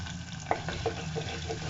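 Curry leaves and three green chilies frying in a pan of oil for an egg roast: a short burst of close, steady sizzling with a few soft pops and spatters.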